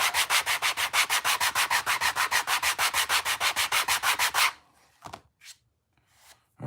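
Rapid, rhythmic strokes of hand-sanding along a leather edge to bring it flush, about two dozen close, even rasping passes, then a few scattered scrapes and handling noises with no talking.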